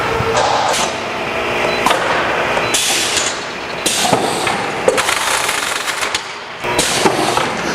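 Wexxar WF20T fully automatic case former pushing a formed case into its tape sealing section, a loud run of mechanical clatter, pneumatic bursts and rattling bangs coming in uneven cycles.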